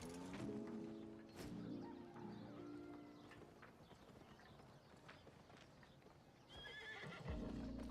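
Horse in the Albion Online video game neighing with a clip-clop gallop, loud and near over game music and effects.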